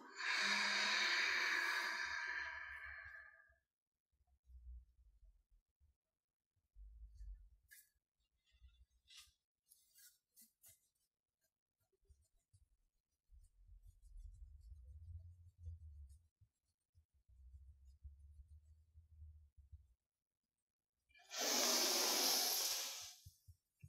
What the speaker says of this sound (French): Longue inspire de nouveau. Expire.